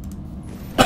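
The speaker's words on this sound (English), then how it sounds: "Can't stop coughing." A single short cough in the video game Subnautica bursts out near the end after a moment of quiet room tone.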